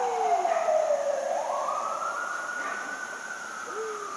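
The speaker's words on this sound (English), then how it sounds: "Bunch of sirens today." Emergency vehicle sirens wail at a distance near a red wolf enclosure at a living museum, a steady rising and falling tone that sweeps continuously, moderately loud with no talking.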